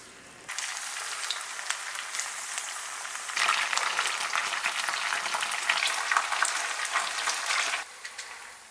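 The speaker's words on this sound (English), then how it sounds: "add a little oil, add in the whites of the green onion. I'm gonna go ahead and add in the chilies so they can rehydrate a bit and start to toast" Green onion whites and dried chilies frying in hot oil in a pan, a loud steady crackling sizzle that starts abruptly, swells louder midway and cuts off near the end.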